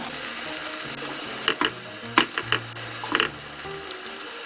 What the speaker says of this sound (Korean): 불은 센불 중불에서 조절하시면서 부침을 해주시면 돼요.